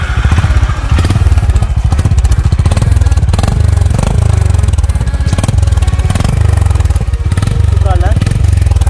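A Honda Highness 350 motorcycle engine fires up and runs with a steady, loud, low thumping idle right up close for the whole stretch, with some background talk over it.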